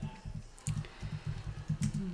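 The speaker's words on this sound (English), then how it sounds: "Wemb is busy typing rather than talking." Someone types on a computer keyboard in a quick, uneven patter of soft keystrokes, heard close but fairly quiet and without speech.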